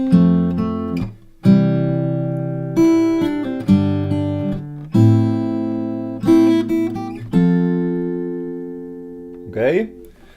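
Fingerstyle acoustic guitar plays a song: a run of clear plucked notes and chords, each ringing and fading before the next, close and fairly loud with brief pauses between phrases.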